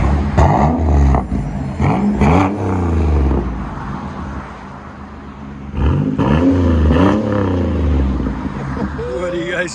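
A 2010 Buick Lucerne with a 3.9-litre V6 and a muffler delete revs up in two loud, close bursts that rise and fall, with a quieter idle between them and voices talking over it.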